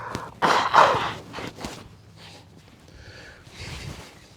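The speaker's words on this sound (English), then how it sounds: "Excuse me while I blow my nose." Someone blows their nose close by with a loud, breathy honk, followed by a few quieter sniffs and rustling in a quiet indoor space.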